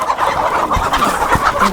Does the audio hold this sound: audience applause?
no